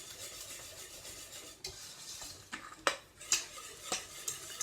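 Ingredients for pumpkin bread being stirred and combined in a pan, with a steady scraping, rubbing texture and a few sharper clinks of utensil against the pan near the end.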